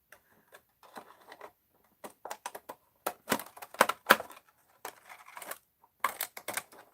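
Scissors cut double-sided tape in sharp, irregular snips and clicks, quiet and close up, with short silent gaps between bursts and no talking.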